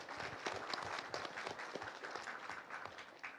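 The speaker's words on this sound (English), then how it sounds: "I would like to propose that all audience we give a very big applause for" A seminar audience applauds its speakers, a dense, even patter of many hands clapping at moderate distance for several seconds without pause.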